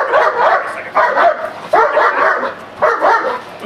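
German Shepherd barking aggressively during protection work, loud close bursts of deep barks in about four rapid clusters with short pauses between them.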